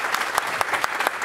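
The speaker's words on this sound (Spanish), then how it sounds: "Un aplauso para Victoria Paz," A cabaret audience applauds a performer named Victoria Paz, a dense, steady burst of clapping with a few sharper claps standing out, fairly close and with no talk.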